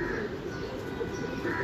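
Homing pigeons from a home breeding loft coo softly in low, repeated calls against a quiet background.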